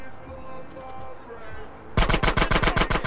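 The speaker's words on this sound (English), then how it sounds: "Somebody else shooting." Gunfire in the video game GTA San Andreas: after a stretch of low background ambience, a loud, rapid burst of about eight or nine shots rattles out in quick succession.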